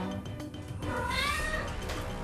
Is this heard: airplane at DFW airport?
no